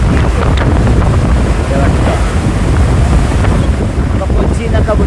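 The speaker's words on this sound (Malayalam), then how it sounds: "കപ്പൽ പോകുമ്പോൾ ഇഞ്ചൻ്റെ പവറിൽ തള്ളുന്ന വെള്ളമാണ് ബാക്കിൽ" Seawater churned into a long foamy wake behind a moving ship at sea, a loud continuous rushing roar mixed with heavy wind buffeting the microphone.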